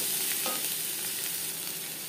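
Onion and crushed garlic frying in a pan give a continuous loud sizzle with a few soft stirring scrapes, heard up close and with no one speaking.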